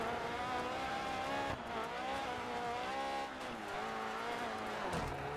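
A rally car in DiRT 4 drifts with a sustained engine drone and squealing, skidding tires that hold steady across the run, loud and close with no talking.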